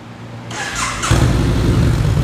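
A 2014 Yamaha Bolt motorcycle fitted with a Vance & Hines aftermarket exhaust cranks over and fires up, settling into a loud, close, deep rumbling idle; no talking.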